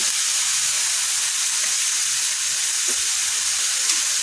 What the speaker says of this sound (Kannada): ನಂತರದಲ್ಲಿ ಇಲ್ಲಿ ಸಣ್ಣದಾಗಿ ಕಟ್ ಮಾಡಿರುವಂಥ ಕ್ಯಾರೆಟ್ನ ಹಾಕ್ತಾಯಿದ್ದೀನಿ